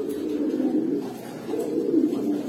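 Giribaz pigeons coo softly at close range, two low rolling phrases repeating with a brief pause between, with no talking.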